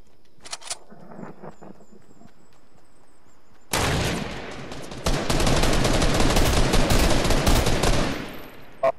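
Video game gunfire strikes the player's character: a brief burst early on, then from about halfway a loud, dense, sustained barrage of automatic shots running nearly to the end.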